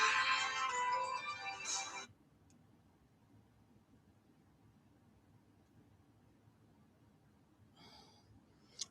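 A phone ringtone plays loudly for about two seconds and then cuts off, leaving quiet room noise, with a faint brief chime returning near the end.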